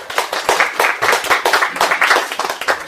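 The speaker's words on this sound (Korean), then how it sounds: "박수로 보시도록 하겠습니다." An audience at a Korean internet panel discussion applauds, a dense, steady burst of clapping from many hands, close and loud for a few seconds.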